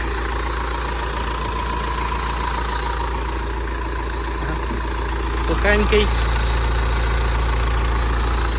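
An older Mitsubishi L200 pickup's engine idles with a steady low rumble, and a single short spoken word comes near the end over the drone.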